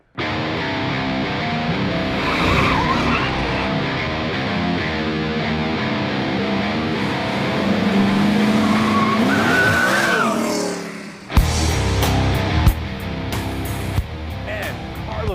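A first-generation Chevrolet Camaro's engine roars at high speed around a race track with tires squealing through turns, loud and continuous, then shifting to a different engine tone near the end.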